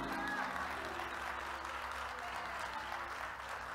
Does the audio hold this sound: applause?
yes